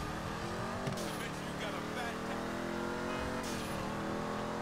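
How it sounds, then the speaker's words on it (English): Cars in a video game sweep past one after another, engines whooshing and revving with rising and falling pitch, a busy continuous traffic rush with no voice heard. "These are some nice cars that I'm passing."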